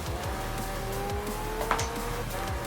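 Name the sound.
racing car engine in the video game Forza Horizon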